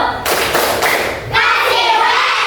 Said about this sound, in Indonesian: Kita kasih tepuk yuk. Tepuk wow.